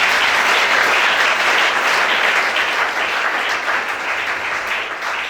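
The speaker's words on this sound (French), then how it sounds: "Acclame chérie." Loud, sustained applause from a church congregation during a worship service, a dense wash of clapping that stays steady and close for several seconds before easing slightly toward the end.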